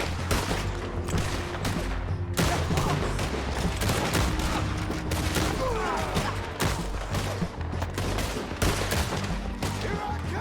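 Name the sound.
gunfire in the video game Red Dead Redemption 2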